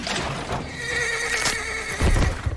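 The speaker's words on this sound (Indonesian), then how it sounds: "Kudanya terluka hingga tak bisa berdiri lagi." An injured horse whinnies loudly and at length after a horse-drawn carriage falls into a hole, a shrill wavering neigh over a rumble, ending in heavy thuds and stamping.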